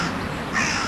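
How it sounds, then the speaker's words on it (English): A crow or raven caws once at Newark Castle, a harsh, drawn-out call that rises at the end, heard fairly close over steady outdoor background noise, with no talking. "crow raven thing of death"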